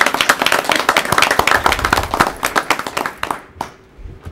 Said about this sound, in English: personally would like to give them a round of applause